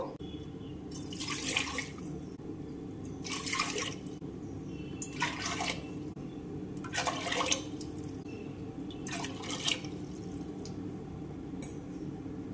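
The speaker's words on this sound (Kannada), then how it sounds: "ಐದು ಕಪ್ ನೀರು ಹಾಕಿದೆ ನಾನು" Water poured from a cup into a pressure cooker in five separate pours, each a short splashing gush with quiet gaps between, close and moderately quiet, no speech.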